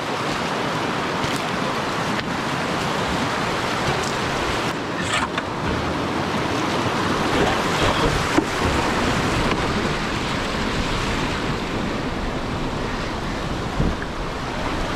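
Rushing river water while travelling downstream on a wilderness river in spring, a steady broadband wash with wind buffeting the microphone throughout, continuous and fairly loud with no talking.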